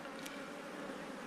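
Gentle feral honey bees hum at a natural hive, a steady, even drone that fills the short stretch without pause, with no voices heard.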